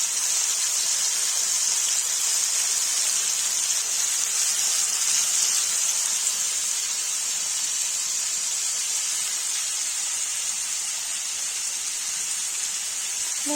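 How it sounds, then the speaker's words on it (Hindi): Cauliflower and potatoes fry in a pan for aloo gobi, giving a loud, steady, close hiss and sizzle that runs unbroken throughout without talk. "गाइस देखिए फ्राई हो रहा है।"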